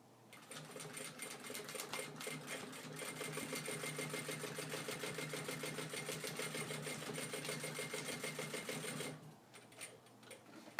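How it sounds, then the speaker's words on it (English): A sewing machine backstitches a quarter-inch rolled hem on a prototype backpack strap, its needle chattering in a fast, steady, close run for about nine seconds before stopping, leaving a few faint clicks. "As always, I'm going to backstitch just to lock it in."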